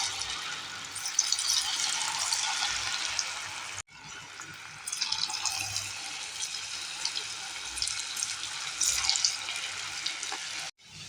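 Thin potato slices dropped into hot oil for homemade potato chips, giving a steady, close, crackling sizzle with one brief pause and no talking.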